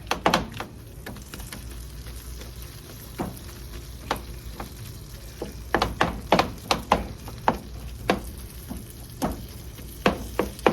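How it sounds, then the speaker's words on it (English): Refried beans are mashed with a masher in a pan, a run of irregular thuds and squelchy knocks that grow denser and louder toward the end over a low sizzling background. "we're going to use our masher and mash this up"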